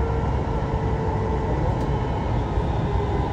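A Toulouse metro train running, a loud steady rumble and rolling roar with a faint tonal whine above, constant throughout without any clear voices.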